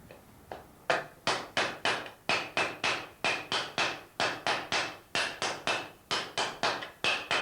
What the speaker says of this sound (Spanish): todo ese tipo de marcas ahora lo vamos a eliminar trabajando con un martillo de madera